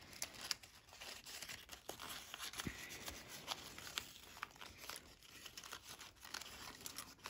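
Origami paper being folded and collapsed into a Kota Imai Rolly Polly model, giving soft continuous crinkling and rustling with a few sharper crackles, close and steady without talk.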